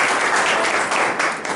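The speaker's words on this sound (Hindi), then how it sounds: "तो इन सबके लिए एक बार जोरदार ताली।" A crowd at a women's organisation event honouring women on International Women's Day breaks into loud, sustained applause, a dense wash of clapping that fills the moment and ebbs slightly near the end.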